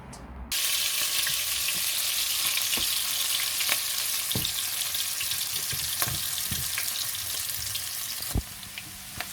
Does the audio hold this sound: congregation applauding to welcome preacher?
no